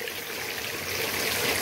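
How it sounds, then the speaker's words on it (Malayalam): A clear stream flows through a spice garden in Mankulam, its steady, close, bubbling rush of water filling the scene without pause. "വെള്ളം ഒഴുകുന്ന ശബ്ദമായിരിക്കും മെയിനായിട്ട് കേൾക്കുന്നത്, എൻ്റെ ശബ്ദത്തേക്കാൾ കൂടുതൽ."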